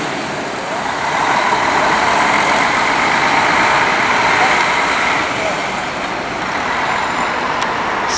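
Large coach bus pulling out of the Tietê bus terminal in São Paulo on a New Year holiday, a steady engine rumble with broadband traffic noise that swells and holds, a voice talking faintly underneath.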